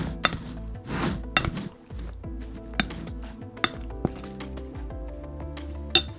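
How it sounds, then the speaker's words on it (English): Potato salad being mixed in a bowl, with repeated clinks and scrapes of a utensil against the dish in an uneven rhythm, close and moderately loud, no talking. "So all we're gonna do is mix it up together, mix the potatoes"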